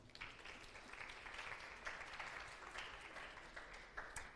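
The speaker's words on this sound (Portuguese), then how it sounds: "Palmas para ele, por favor" A class applauds a student in a steady, faint wash of many hands clapping, continuous and fairly even throughout.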